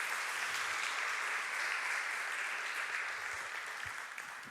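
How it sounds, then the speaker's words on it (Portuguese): A church congregation applauding strongly during a worship service, sustained dense clapping from a crowd that fades slightly toward the end, no speech over it. "aplauda bem forte o nome de Jesus"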